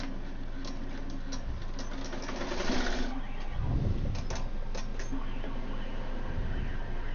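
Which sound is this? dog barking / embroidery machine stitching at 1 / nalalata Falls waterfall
embroidery machine stitching at 1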